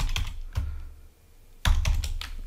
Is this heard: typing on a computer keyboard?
yes